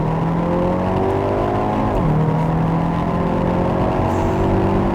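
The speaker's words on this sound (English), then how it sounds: "Let's put the car into N mode and drive." A 2021 Hyundai Veloster N with 8-speed DCT accelerating hard in N mode, heard from inside as a loud, steady engine drone that climbs in pitch, dips briefly at a gear change and climbs again.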